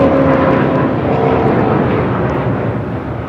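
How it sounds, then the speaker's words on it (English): United Airlines Boeing 787-9 Dreamliner taking off from LAX, a loud, steady broadband jet roar with a faint engine whine, holding near and constant before easing slightly toward the end. "This is United Airlines Flight 801 taking off to Hong Kong on a 787-9 Dreamliner"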